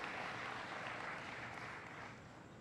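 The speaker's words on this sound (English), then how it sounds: "Give them a round of applause." Faint applause for a gospel choir at a brunch event, a steady wash of clapping that sounds distant and soft and fades slightly toward the end.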